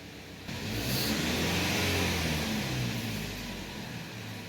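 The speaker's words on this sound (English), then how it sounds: "I am hearing a noise coming from this engine." A Chevrolet Equinox engine with a P0014 camshaft timing fault runs close by, its low rumble rising briefly and then settling into an uneven, slightly rough idle.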